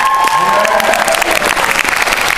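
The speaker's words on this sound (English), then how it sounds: "Let's give Brendan Emmel a big round of applause" Loud, dense applause and cheering from a talent show audience, continuous clapping close to the microphone with a few voices and whistles rising through it.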